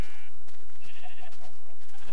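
Minecraft sheep bleating, a few short wavering baa calls close by over quiet game ambience.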